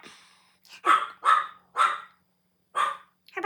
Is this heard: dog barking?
yes